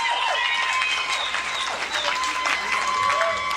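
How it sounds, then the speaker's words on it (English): A stand-up comedy audience applauds for military veterans, a dense, steady wash of clapping that fills the whole moment, with a few voices and cheers mixed in. "Round of applause for our veterans, our military out there."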